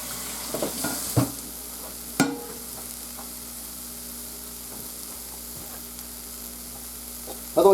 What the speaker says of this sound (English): By the way, yes, it's still sizzling with the fire off.